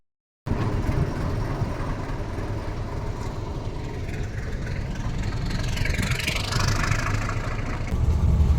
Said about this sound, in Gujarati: તો ચાલુ થઈ ગઈ છે ટ્રેન